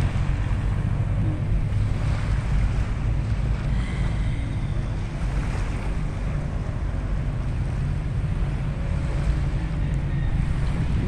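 Seaside wind and waves form a steady, dense rumble of wind buffeting and surf, with no clear breaks and no voices.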